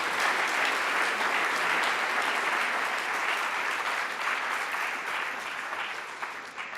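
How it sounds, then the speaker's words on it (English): A lecture-series audience claps for the guest speaker after his leadership talk, a full, steady round of applause from many hands that holds evenly, then thins slightly toward the end. "let's start by giving Don a round of applause"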